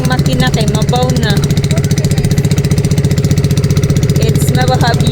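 A small boat engine runs steadily and loudly at a constant pulsing idle through shallow water, with voices talking faintly over the drone.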